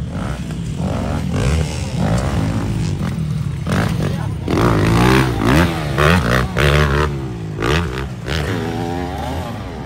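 A motocross motorcycle engine revs and whines loudly during a ladies' race heat, its pitch rising and falling continuously, with a commentator talking over it.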